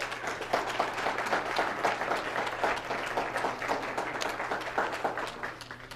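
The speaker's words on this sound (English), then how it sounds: "a round of applause" An audience at a Dodd-Frank question-and-answer session claps steadily in a dense, even round of applause that fades slightly at the end.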